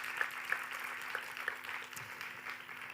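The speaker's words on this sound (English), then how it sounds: "Applaud those students today. Please, round of applause." Quiet, distant audience applause for students at a hackathon finale in Paris, with steady soft clapping and a few sharper claps over a low hum.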